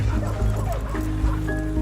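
Sled dogs in an Iditarod dog sled racing video game bark and whimper in short yips, heard under music and game sounds.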